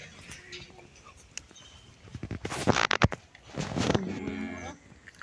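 Friesian dairy cows low loudly in a long moo near the middle, with a second shorter call after it, over a quiet farm background with light shuffling.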